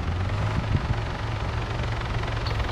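A helicopter landing in the video game Arma 3, a steady low rotor thump and engine drone that holds at an even, fairly close level without voices.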